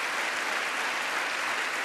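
Audience applause in the chamber at a 2024 State of the Union address, a dense, steady wash of clapping that holds at the same level from start to finish with no voices on top.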